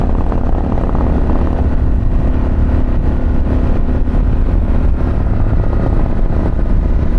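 Harley-Davidson Pan America motorcycle fitted with a Vance Akrapovic exhaust, a deep, loud, continuous engine rumble heard close up and steady throughout, with no voices.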